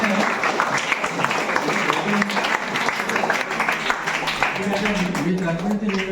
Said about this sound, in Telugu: మరొకసారి క్లాప్స్ కొట్టడం.